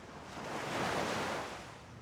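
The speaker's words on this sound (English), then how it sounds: "Oh, I can hear the waves of Tangaroa." Ocean waves wash onto a beach, one broad surge swelling and fading softly, with faint wind and no voices.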